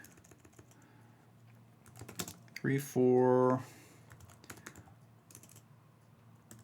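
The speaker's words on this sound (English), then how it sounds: "don't make fun of my typing" Quick clattering keystrokes on a computer keyboard, a short loud burst of close typing between stretches of quieter background, with someone talking briefly around it.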